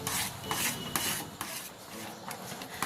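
Thick ripe mango jelly is stirred in a pan, a spoon scraping and rubbing against the bottom in quick, rhythmic strokes, close and fairly quiet with no talk.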